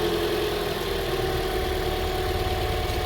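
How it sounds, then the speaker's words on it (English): A 2010 Toyota Corolla S engine idling after a spark plug replacement, a steady, smooth mid-pitched hum with an even low rumble, close and continuous with no talking over it. "Idles really nicely"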